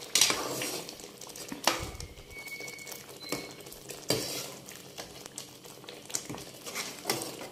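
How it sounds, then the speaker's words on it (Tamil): Paneer gently stirred into butter masala in a pan, with a soft steady sizzle and scraping of a spoon against the pan, close and continuous throughout, with no talking. "பன்னீர் உடஞ்சிராமல் சும்மா லைட்டாக அப்படி கிளறி கொடுக்கணும்"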